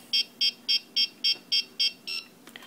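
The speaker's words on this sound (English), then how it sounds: "On switch, it'll beep." Seven short, evenly spaced electronic beeps in quick succession from a WL Toys V911 radio transmitter switching on, clear and close, followed by a faint click.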